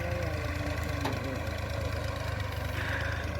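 A tractor engine idles with a steady, even low-mid chug, constant and moderately loud throughout the short stretch, with no voices over it.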